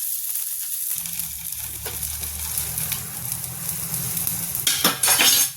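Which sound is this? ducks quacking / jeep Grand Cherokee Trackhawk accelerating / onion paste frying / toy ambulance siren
onion paste frying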